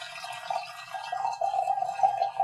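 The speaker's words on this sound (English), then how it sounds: "Nice, smooth, easy pour." Tea pours from a teapot in a thin, steady trickling stream that grows a little louder and fuller toward the end, close and alone.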